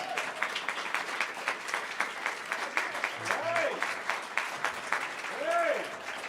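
Audience applause at a military retirement ceremony, a steady rapid clapping that carries through the whole stretch, with voices calling out over it in a couple of places.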